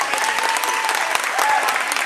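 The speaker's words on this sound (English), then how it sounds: "even the Eagles give her a round of applause for going in there, serving" Steady applause from spectators in a gym at a girls' high school volleyball match between the CCHS Lady Eagles and the St Edmund Lady Blue Jays, clapping continuously and fairly close, with a commentator speaking over it.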